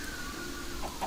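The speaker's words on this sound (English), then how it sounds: "Hello, chicken." A Minecraft chicken gives a brief, soft cluck over a low ambient game background, heard once or twice in quick succession.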